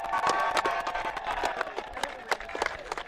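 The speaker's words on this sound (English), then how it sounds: "So big round of applause, make a lot of noise for Huanui College." A crowd at a school rowing regatta's medal ceremony claps and cheers for a college crew, with scattered sharp hand claps and raised voices at a moderate distance.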